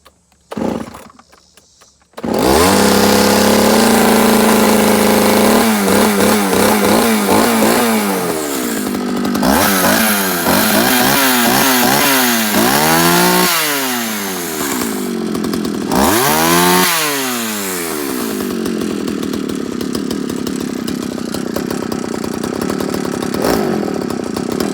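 Partner P7000 cut-off saw with a freshly rebuilt carburetor firing up after a pull start, its two-stroke engine revving up and down repeatedly, loud and close, then settling into a steady run.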